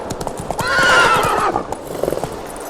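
A horse in The Witcher 3 gives a loud, drawn-out neigh over steady clip-clop of hooves on a road, close and clear with no talking.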